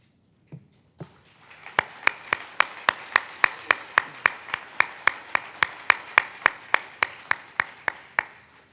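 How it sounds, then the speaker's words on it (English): A conference audience at the opening of the 39th IEEE Symposium on Security & Privacy gives the program committee a round of applause: crisp, steady, evenly paced claps ring out over a building wash of clapping that fills the room for several seconds. "I'd like to give everybody a round of applause here."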